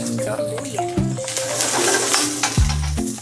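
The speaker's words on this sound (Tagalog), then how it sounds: "So gisa lang tayo ng sibuyas" Onions sautéing for kansi soup in a restaurant kitchen: a steady bright sizzle with stirring scrapes, close and loud, with a voice talking over it.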